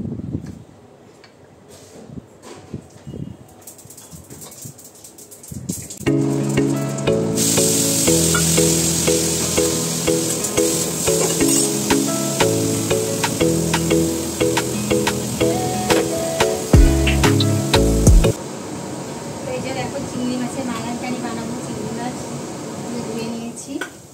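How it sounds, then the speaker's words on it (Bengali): Salt-rubbed prawns lightly frying in a pan, a steady close sizzle and spatter that starts after a quiet opening and runs under music for most of the stretch before cutting off near the end. "দেখো চিংড়ি মাছের মালাইকারি করবো বলে চিংড়িটা শুধু নুন মাখিয়ে ভাজছি, একটু হালকা করে ভেজে নিচ্ছি।"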